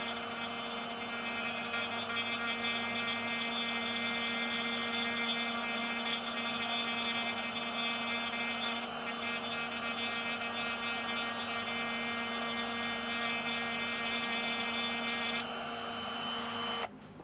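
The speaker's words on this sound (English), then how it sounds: "I'll turn the Dremel on here and show you. I run it just around the edge." A Dremel rotary tool runs at a steady high-pitched whine while grooving around the hat edge of a manger scene figure, a continuous close and fairly loud buzz that cuts off near the end.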